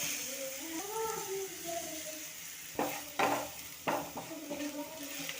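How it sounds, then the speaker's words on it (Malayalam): Spice powders, chilli powder among them, are stirred into a sizzling pasta sauce in a pan. A steady fry hiss runs under several sharp spoon scrapes and knocks against the pan, and a soft voice murmurs early on. "പൊടികൾ ഇട്ട് കൊടുത്ത് അതൊന്ന് മിക്സാക്കി കഴിഞ്ഞിട്ട് വേണം നമുക്കിതിലേക്ക് തക്കാളി ഇട്ട് കൊടുക്കാൻ"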